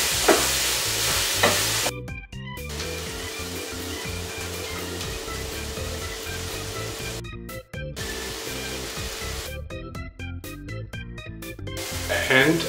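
Food frying for lahmacun sizzles loudly in a hot pan, a constant crackling hiss with stirring and scraping, interrupted by brief bursts of music.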